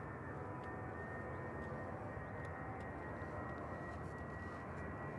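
A plane departs Manchester Airport bound for Heathrow, a faint, steady distant roar of aircraft engine noise holding level throughout with no voices present.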